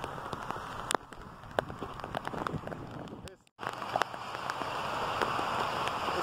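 Heavy rain pours steadily in a dense, hissing wash with scattered sharp drops and crackles, briefly cutting out once before returning just as strong.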